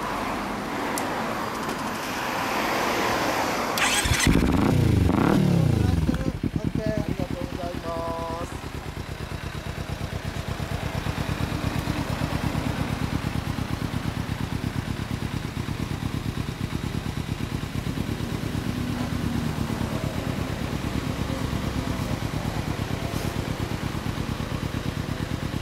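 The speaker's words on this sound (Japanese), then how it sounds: "エンジン音聞かせてもらえますか？" A 2014 Kawasaki Ninja 250 with a Beet aftermarket exhaust revs briefly, then settles into a steady, close idle that runs on evenly for the rest of the clip.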